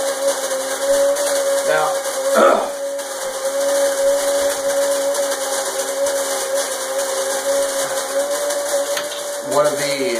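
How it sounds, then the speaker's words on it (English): A grinder or blender grinds ingredients with a loud, steady whirring hum that runs the whole time, with a brief word spoken over it near the start. "So let's give this a nice grind."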